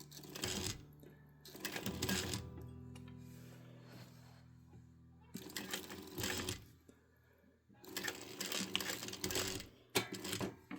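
A sewing machine runs in several bursts of rapid mechanical stitching, pausing between runs, close and clear.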